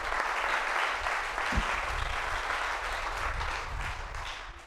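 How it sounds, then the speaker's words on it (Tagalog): Loud, sustained applause from a church congregation fills the whole stretch, a dense wash of many hands clapping close by with no talk over it. "Yung malakas na palakpak."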